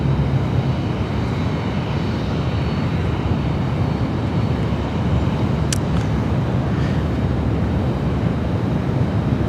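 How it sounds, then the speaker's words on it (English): A Cathay Pacific Airbus A350 airliner takes off from runway 16 right at Sydney Airport, producing a loud, steady, low jet roar with broadband rumble and some wind buffeting, heard from nearby with no talking. "Cathay 110, runway 16 right, clear for takeoff"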